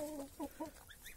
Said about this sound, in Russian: О, стоит петух там.